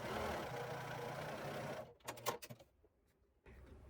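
A sewing machine stitches fabric strips together for a scrap quilt in one steady close run, then stops abruptly, followed by a few sharp handling clicks before a low hum resumes.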